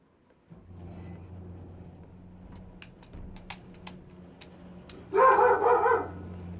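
Puppies bark in a short burst in the background of a room with a steady low hum, a few sharp knocks and clicks coming before the barking.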